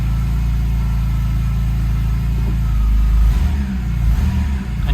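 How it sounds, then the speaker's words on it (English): A 2001 BMW E46 M3 Touring with the S54 straight-six and 86k miles idling after a cold start, a steady low rumble that rises briefly into a brief rev before settling, heard close with no talk. "Engine runs nice and smooth."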